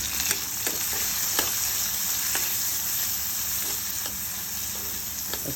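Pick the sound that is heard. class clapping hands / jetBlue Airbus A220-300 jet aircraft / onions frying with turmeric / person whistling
onions frying with turmeric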